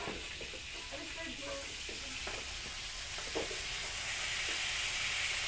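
Food sizzling in a pan on a stove, a steady hissing fry heard fairly close with faint clinks and murmured voices in the background.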